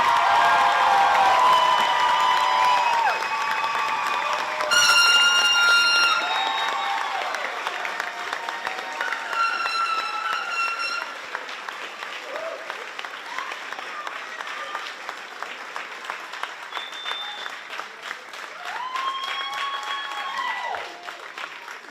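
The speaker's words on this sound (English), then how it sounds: "We just keep applauding all night." A graduation crowd at a charter school ceremony applauds and cheers for the class of 2025, dense sustained clapping with whoops and whistles that gradually thins out and fades over time, with voices mixed in.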